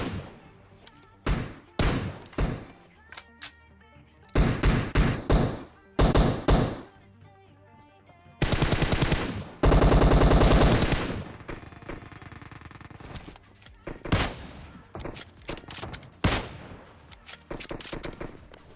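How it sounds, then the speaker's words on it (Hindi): M4 rifle fire in PUBG Mobile comes as loud repeated gunshots, sometimes single taps and sometimes long sustained automatic bursts, close and punchy with short pauses between volleys. "यहाँ पर मैंने अपनी M4 की सारी एमओ खत्म कर डाली"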